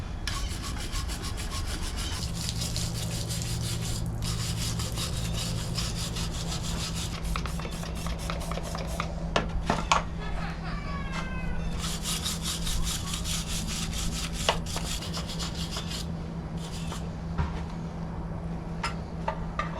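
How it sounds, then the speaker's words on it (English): A wire brush scrubs hard over the grimy transmission case of a 1979 Z28 Camaro, a steady close rasping scrape that runs nonstop, with a low motor hum underneath and a few sharper clatters partway through. "you're using a wire brush, you're gonna scratch up that transmission."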